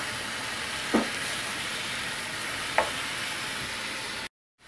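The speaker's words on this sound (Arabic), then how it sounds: "هنا كنقليو الاناناس ديالنا باش نخرجو منه الماء" Pineapple frying in a pan for a Moroccan lamb dish, a steady loud sizzle with two soft clicks of stirring, then cutting off abruptly to silence near the end.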